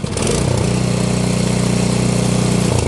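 A snow blower's small engine is brought up to speed as the throttle is opened, rising from a rough idle into a steady, loud, buzzing drone that holds close by with no talk over it.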